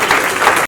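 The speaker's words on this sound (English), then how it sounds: "Miss Wahida Rahman, can we have a huge round of applause for her, everyone?" Audience applauding at a book launch event, a brief dense burst of clapping from a crowd, loud and close, cut off abruptly.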